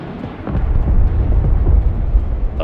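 Ballistic missile strikes in the video game Broken Arrow land as a deep, continuous rumbling roar of explosions, loud and muffled like rolling thunder.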